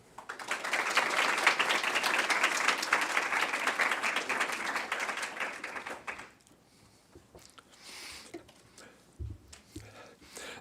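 An audience applauds to welcome a lecturer at BYU, sustained dense clapping for about six seconds before fading to scattered claps and quiet room noise.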